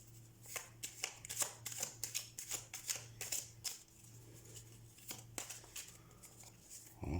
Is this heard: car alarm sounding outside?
no